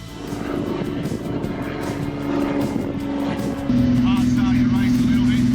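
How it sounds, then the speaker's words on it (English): Steady propeller engine drone heard from inside a small skydiving plane climbing toward jump altitude, loud and continuous, its tone stepping up slightly partway through, with faint voices underneath. "It's a 20-minute flight up to altitude."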